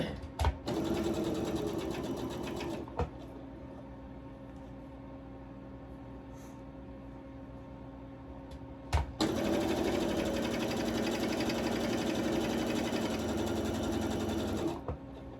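A sewing machine stitches fabric in a small business workspace, running loud and steady in close-up, stopping briefly around the middle before the whirring, buzzing drone resumes.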